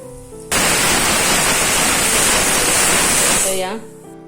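A pressure cooker cooking prawn biryani blasts a loud, sustained hiss of escaping steam for about three seconds, then it tapers off and a voice speaks briefly before and after the release.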